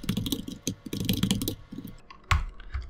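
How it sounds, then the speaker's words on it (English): Close, quiet keystrokes on a computer keyboard, bursts of quick uneven typing with short pauses and a firmer final press. "I'm going to type in hyphen"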